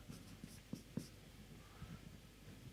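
Faint scratching of a pen writing out a transfer function equation in an engineering lecture, heard as short irregular strokes with a few louder taps, very quiet and close, with no clear speech.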